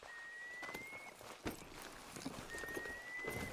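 Horse hooves clip-clopping in the Red Dead Redemption 2 video game, a quiet, irregular series of walking hoofbeats over soft background ambience, with a faint steady tone running in and out.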